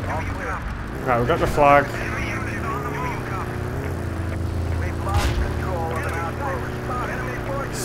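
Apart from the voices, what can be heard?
plane flying overhead in video game Battlefield 2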